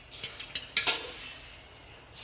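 Puffed rice and flattened rice chivda mix being stirred in a pan, soft scraping and rustling with a few light clinks, quiet and close, no voices.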